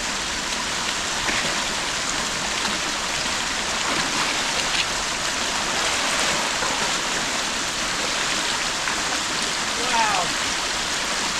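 Little Wilson Creek in Grayson Highlands State Park rushes steadily as hikers wade across, a broad, continuous close splashing wash of stream water, with a brief voice exclaiming over it.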